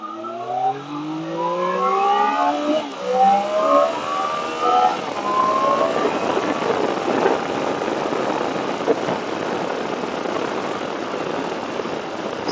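A 2025 Triumph Daytona 660 motorcycle accelerates hard through several rising gear pulls, then the sound broadens into steady wind and road roar as the bike moves away at speed.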